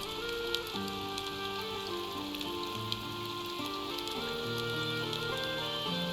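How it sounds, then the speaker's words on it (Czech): Rain in the tavern management game Tavern Master patters steadily as a constant hiss beneath layered background music, fairly loud throughout. "Jen prší"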